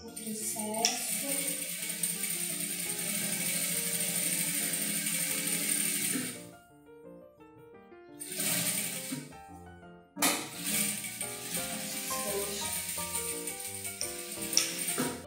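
A JACK industrial straight-stitch sewing machine runs in close, rapid mechanical bursts, stopping briefly twice before resuming with a clattering, ticking rhythm.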